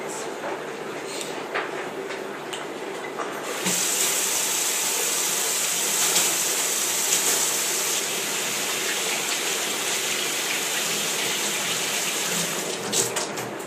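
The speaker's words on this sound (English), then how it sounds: "I'm gonna wash my hands off and go back to my apples" Hands being washed under a running kitchen tap: a quieter trickle and splashing for a few seconds, then a loud, steady gush of water that continues, close by, with no talking.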